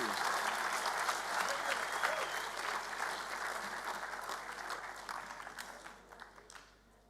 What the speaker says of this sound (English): Can we please give Lara a round of applause?